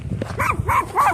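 A tiny dog barks three times in quick succession, close by and fairly loud, with no talking over it.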